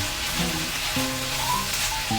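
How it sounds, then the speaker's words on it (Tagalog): Garlic and ginger sautéing in a pan for lemon ginger chicken adobo, a steady close sizzle and crackle of frying throughout with faint stirring clinks. "bawang, luya. Gigisa natin ito."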